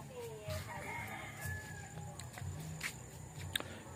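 Faint rooster crowing and scattered chicken clucks drift in from a distance over quiet outdoor background noise.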